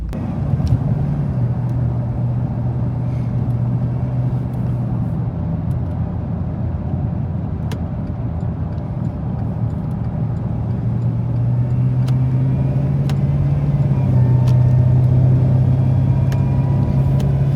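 A 1,000 HP Cadillac CTS-V accelerates with a continuous loud, low engine drone that climbs gradually in pitch as it gets up to speed, heard from inside the car with no talk.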